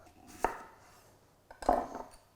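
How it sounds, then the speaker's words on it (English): Two crisp knife cuts through raw sweet potato land on a cutting board, each a sharp thunk with a short scrape, spaced about a second apart in a quiet kitchen. "So we just slice nice rounds of sweet potato"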